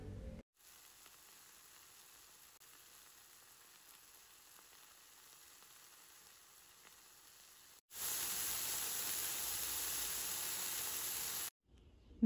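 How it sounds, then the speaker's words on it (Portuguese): Slices of mozzarella cheese fry in a pan, a steady close sizzle that starts soft and then jumps much louder for several seconds before cutting off, with no voices. "Deixei fritar bem o queijo,"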